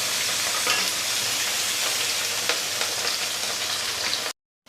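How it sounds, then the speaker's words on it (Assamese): Fish sizzles in a frying pan, already browned on one side and turned over; a dense, steady, close crackle runs loud and unbroken with no talking, then cuts off abruptly into a brief silence. "মাছখিনি এটা চাইড হৈ গৈছে আৰু এটা চাইড এনেকৈ উল্টাই দি দিছোঁ। ফ্ৰাই হৈছে"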